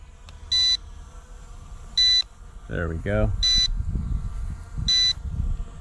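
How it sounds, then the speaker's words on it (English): Four short, high-pitched electronic beeps from a ZLL SG906 Max 2 drone transmitter sound at even intervals, loud and close, while a person speaks briefly in between. "it'll beep when it does it from the transmitter"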